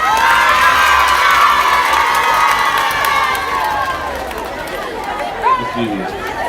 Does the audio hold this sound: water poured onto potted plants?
no